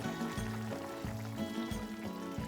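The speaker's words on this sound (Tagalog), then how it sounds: "Ngayon, pwede na natin lagyan ng tubig." Water pours and trickles steadily into a cooking pot of chicken and pork adobo over a low, rhythmically pulsing background hum.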